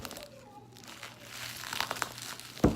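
A taped jewelry package for a cluster ring is wrestled open: close, irregular crinkling and crumpling of plastic and tape, building into sharper crackles and a final loud tearing snap.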